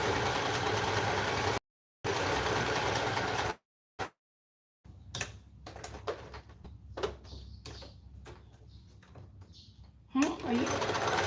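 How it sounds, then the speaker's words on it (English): A sewing machine stitching a pocket on, its fast mechanical whirr stopping and starting in short bursts close by, with brief gaps of silence and a little talk nearby. "I'm just going to stitch the pocket on now."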